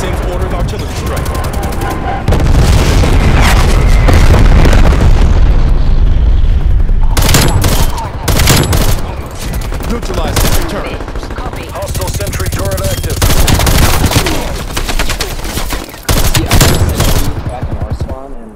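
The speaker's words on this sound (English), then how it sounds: "Baker requesting napalm strike. Sit rep, napalm strike. Same order of artillery strike." Napalm and artillery strikes in a multiplayer shooter game erupt as loud, dense rumbling explosions and rapid gunfire bursts, continuous and overwhelming throughout.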